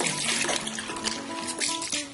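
Water poured from a cup into a sink while rinsing after brushing teeth, a close, quiet splashing and trickling that comes in short uneven bursts.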